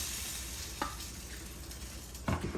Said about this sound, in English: we're going to add the shrimp